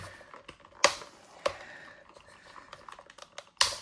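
Ratcheting plastic joints of a GI Joe Classified Cobra S.N.A.K.E. battle suit action figure give a few sharp, close clicks at irregular intervals, with faint handling rustle between them in a quiet room.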